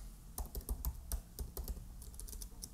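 Quick, uneven clicks of typing on a computer keyboard, close and fairly quiet, with short pauses between bursts and no talking.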